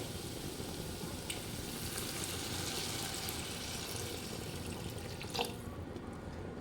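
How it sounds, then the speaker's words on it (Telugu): Water poured into a cooking pan with hot prawn and egg gravy base, a steady sizzling, frying hiss with a brief splashy burst near the end, no talk. "ఇప్పుడు ఇందులో వాటర్ పోసుకోండి"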